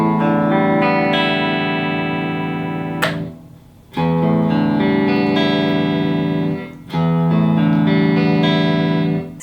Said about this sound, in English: And here we got the first guitar with a humbucker pickup.